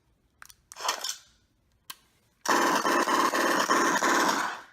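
An E-11 blaster prop with BlasterCore 4.0 fires grenade sounds: a couple of sharp synthetic zaps and a click, followed by a sustained, buzzy pulsing burst of sci-fi weapon noise.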